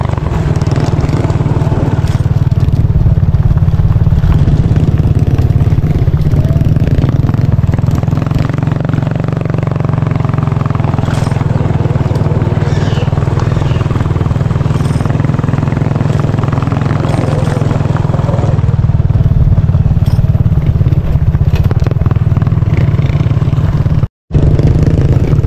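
A motorcycle rolls slowly along a rough route in Mindanao, its engine a steady, loud, close low rumble with wind noise throughout and a brief dropout near the end.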